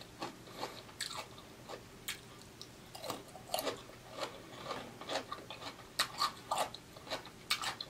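Close, quiet crunchy bites into a fresh cucumber followed by wet chewing, repeated crisp snaps spaced irregularly over several seconds, with no talking.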